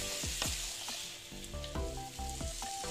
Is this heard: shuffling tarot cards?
no